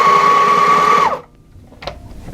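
A Sailrite heavy-duty industrial sewing machine runs a fast forward stitch with a loud steady whir, then stops abruptly, leaving near silence and a few faint clicks.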